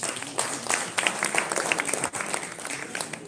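Applause from guests at an executive business dinner, moderately loud and somewhat uneven clapping with distinct individual claps, a brief dip just past midway, then continuing.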